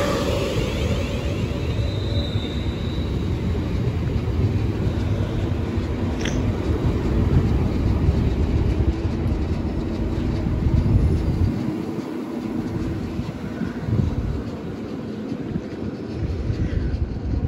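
Avanti West Coast passenger train passing through Bletchley station, a loud steady rumble and rail roar lasting throughout with a faint high squeal early on, no talk.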